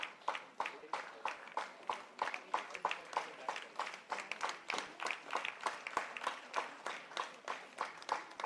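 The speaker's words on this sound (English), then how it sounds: "Let's give them a big round of applause." A crowd claps in a steady, regular rhythm at the Seva Sambhrama Bengaluru 2022 corporate volunteering event, the beats coming evenly about twice a second and holding at a moderate level throughout.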